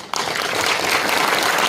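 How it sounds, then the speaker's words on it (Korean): A lecture audience breaks into loud, dense applause right after a keynote talk by Professor Yusuke Yamashita of Tokyo Metropolitan University on regional decline and revitalization, the clapping starting sharply and sustaining evenly. "발표를 해주신 야마시타 유스케 교수님한테 다시 한번 큰 박수 부탁드리겠습니다"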